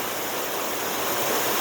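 A steady rush of running stream water flows on without a break, close and even, with no voices over it.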